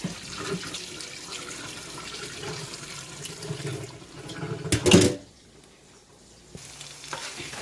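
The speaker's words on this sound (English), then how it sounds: "I'm going to pour some hot water over it." Hot water poured over ackee sitting in a strainer, a rushing, splashing pour that builds to a loud burst and then cuts off, leaving quiet dripping and faint kitchen sounds.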